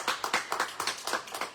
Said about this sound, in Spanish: un aplauso para el compañero.